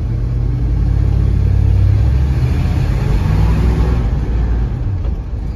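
A Ford truck with a C6 automatic transmission driving in gear, a loud low engine rumble and drone holding steady throughout.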